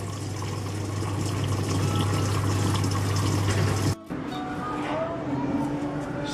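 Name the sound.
Samsung top-load washing machine filling with water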